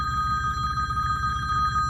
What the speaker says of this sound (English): Oh, and a phone call.